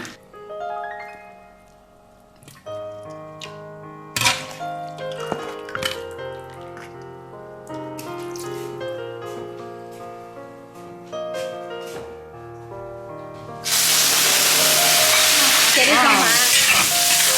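Meat goes into hot water in a rural home kitchen, first with clinks and clatter of utensils and cookware, then a loud, dense bubbling hiss of boiling that swells in the last few seconds, close by.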